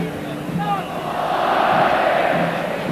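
A Mexican stadium crowd at a football match chants olé as a team strings passes together, a broad sustained roar swelling over the clip's second half beneath a commentator's voice.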